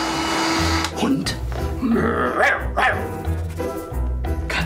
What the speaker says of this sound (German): Hund?